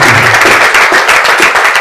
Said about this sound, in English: But we can clap also for them